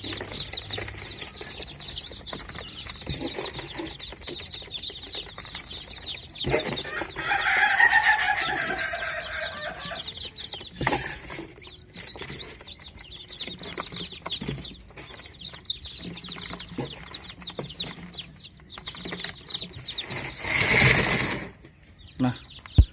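Day-old chicks peeping busily in a brooder box as they are set down among feed and water, a steady chorus of high chirps with brief rustling and a louder burst of cheeping near the end.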